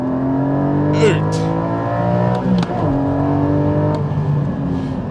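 A Porsche 718 Cayman GT4 on a race track brakes hard and downshifts, its engine note dropping and jumping between gears before accelerating again, loud and close from inside the car, with someone briefly speaking over it.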